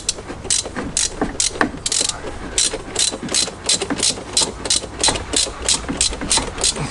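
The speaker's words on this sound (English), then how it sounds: "having trouble starting his motorbike by the sounds of it" Rapid, regular ratcheting clicks with a mechanical whir, like a motorbike engine being kicked over repeatedly without catching, fairly close and continuous.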